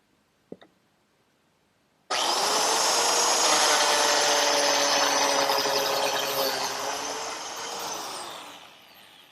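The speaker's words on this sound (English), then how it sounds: "To reinforce the miter joints, I'm cutting biscuit slots." A plate joiner clamped in a vise cuts biscuit slots into wood for miter joints: after a brief click, the motor kicks in and howls steadily at close range for several seconds, then winds down.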